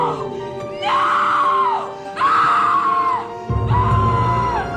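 Three long, loud screams from a woman in the Tales From The Crypt episode "And All Through the House", each sustained for about a second with short breaks between, close by.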